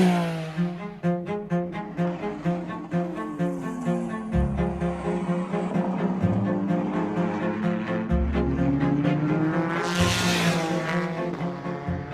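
A Ford GT race car from the Chip Ganassi Le Mans effort screams around a track, its engine note rising through pulsing shifts and settling into a sustained howl, with a brief tire squeal near the end.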